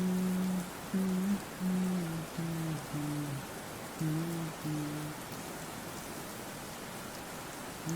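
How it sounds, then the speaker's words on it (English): Steady rain hiss fills the background, with a hummed melodic tone rising and falling over it for the first five seconds before the rain continues alone. "It's raining in the background, which doesn't make sense."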